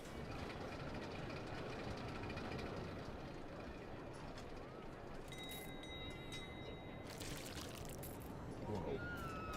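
A roller coaster train runs in Parkitect with a continuous rumbling, clattering rush throughout, while someone talks over it and a few brief tones chime in.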